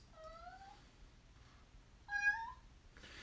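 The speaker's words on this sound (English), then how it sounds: "I also get a kitten meowing at my feet while I'm trying to stream." A kitten meows at close range: two clear meows, one near the start and a louder one later, with quiet room noise in between.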